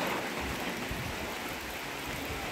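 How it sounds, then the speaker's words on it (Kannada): Heavy rain pours down on a day trip in Wayanad, Kerala, a dense, even roar of drops filling the whole scene without a break, loud and close, with no one talking. "ಯಪ್ಪ ಮಳೆ ಬರ್ತಾ ಇದೆ. ಜೋರಾಯಿತು ಮಳೆ."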